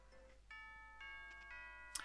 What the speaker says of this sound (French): Oh, c'est la cloche de l'école?